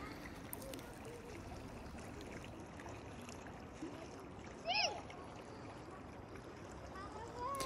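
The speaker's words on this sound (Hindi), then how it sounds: "पानी के बहने की जो आवाज़ कानों को सुकून देती है।" Flowing stream water running through a mountain valley near Skardu, a steady broadband rush heard throughout, fairly close and continuous, with a brief faint tonal chirp partway through.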